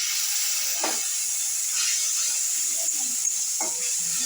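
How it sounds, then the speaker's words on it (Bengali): Chilli, turmeric and salt spice paste fries in a pan for aloo dum, a constant bright hiss with a few soft spatula strokes mixed in, close and even with no voices. "মশলাটা আমি কষিয়ে নিচ্ছি একটু নুন দিয়ে দিলাম"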